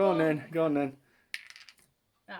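A single die is rolled during a Napoleonic tabletop wargame of French versus British: a short voice, then a bright clatter of several quick bounces on the table, followed by silence and another voice.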